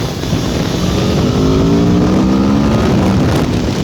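Aprilia Tuono V4 Factory naked motorcycle engine pulling hard under acceleration, loud and close with rising harmonic drone over heavy wind rush, no talking.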